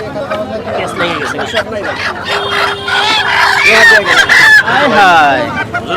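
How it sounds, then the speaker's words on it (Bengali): Native chickens cluck and squawk among a busy crowd at a village market, with people talking loudly nearby and occasional sharper fowl calls cutting through. "এক ঝুড়ি মুরগি নিয়ে আসছে"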